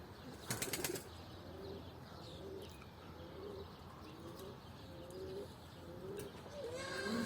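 Pigeons in flight with a brief burst of wing flapping near the start, followed by soft repeated cooing calls throughout, faint and outdoors with no talking.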